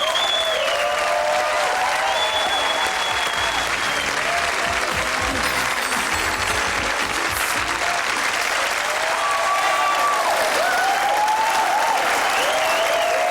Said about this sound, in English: give them a nice round of applause, please